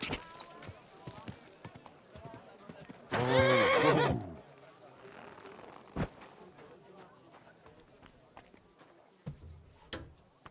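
A horse gives one loud, drawn-out whinny partway through, with soft hoof clip-clops, scattered thumps and faint talk before and after it.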